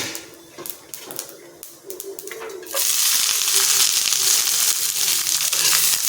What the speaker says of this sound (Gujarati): રાઈ કકડી જાય એટલે આપણે કોબીજ નાખીશું